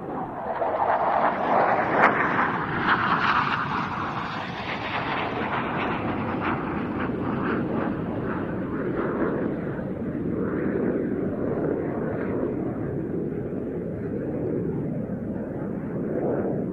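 A Turkish Air Force F-16 fighter jet flies at the RIAT airshow, producing a loud, sustained broadband jet roar that swells slightly early on and then holds steady, heard alone with no talking.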